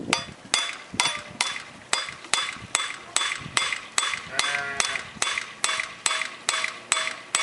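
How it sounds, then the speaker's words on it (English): A hammer peens a scythe blade held on a peening anvil, with sharp metallic strikes ringing out at a steady, even pace of roughly two per second, close and clear with no talk. "you're having to use your knee to hold it at the right angle on the peening anvil. And just kind of peen and gradually move it along."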